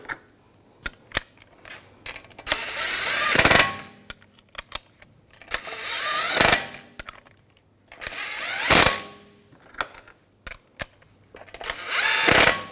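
A power tool on a 2007-2013 BMW 328i runs in four short whirring bursts, each rising and cutting off, as the wheel's lug bolts are tightened. Small clicks and handling sounds fill the gaps, and there is no talk.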